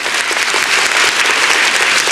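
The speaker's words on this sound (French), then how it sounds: "on les applaudit très très fort" A television studio audience at a 1977 children's singing show applauds loudly and densely, a continuous close roar of clapping hands with no pauses.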